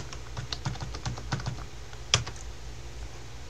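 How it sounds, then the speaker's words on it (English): Keys clatter on a computer keyboard as a password is typed: a quick run of light, irregular clicks followed by one louder keystroke, close and alone with no talk. "And then let's type in our password."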